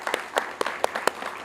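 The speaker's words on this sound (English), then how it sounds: "if we could do a round of applause" Sparse, fairly quiet applause at an MOU signing ceremony between HCPSS and HCC on energy independence, with a handful of distinct claps standing out from a soft, thin patter.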